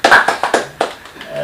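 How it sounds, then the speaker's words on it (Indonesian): A few hands clapping close by in quick irregular bursts that thin out after about a second, with a voice faintly underneath. "tepuk tangan dulu"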